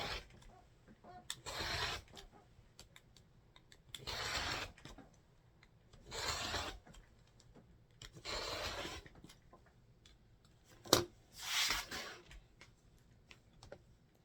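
Kona white cotton fabric is cut into 2.5-inch sashing strips for a quilt, six quiet swishing strokes of a cutter repeating about every two seconds, with one sharp tap near the end.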